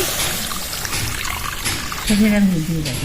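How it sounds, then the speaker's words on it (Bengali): Milk, about five hundred grams, poured into a pot while making gokul pitha, a steady liquid pour and trickle heard under someone talking in Bengali. "পাঁচশো গ্রাম দুধ নিয়েছি ঢেলে দিয়ে দিচ্ছি"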